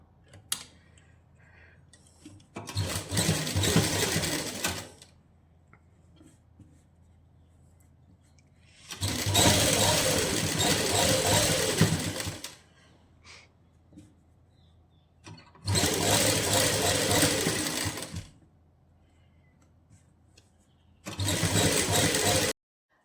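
A sewing machine stitching lace onto a suit sleeve runs in four separate whirring bursts of a few seconds each, with quiet pauses between them.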